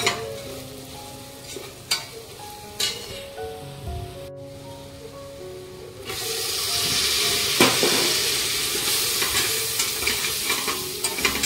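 Sode bhat, rice with dried shrimp, sautéing with biryani masala in a pan, a steady sizzle and fry hiss with occasional scrapes of a stirring spoon, the sizzling growing louder and denser partway through, close up with no talk.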